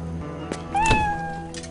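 A cat gives a single clear, rising meow used as a movie scene transition, loud and alone over a faint background.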